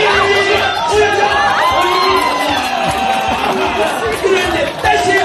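A dense, loud crowd cheers, shouts and whoops continuously at a Korean bullfight, with children's voices in the mix and an announcer talking over the roar.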